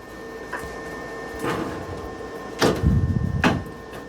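Clamp being wound down on an xTool MetalFab laser welder and cutter, giving a few short mechanical scrapes and clunks, with a louder rasping burst near the end and no talking.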